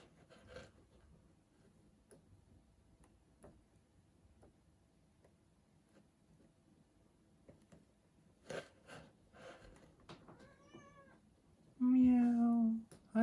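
A cat meows near the end, a couple of clear rising calls close by after a long quiet stretch of faint ticks and rubbing from coin carving work.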